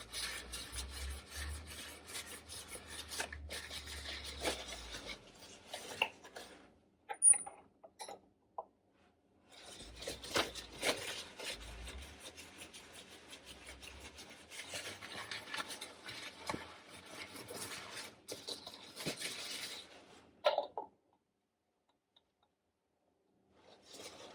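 Metal lids are screwed tight onto glass jam jars. Close, quiet rasping and scraping twists come in bursts with short pauses, and no one speaks.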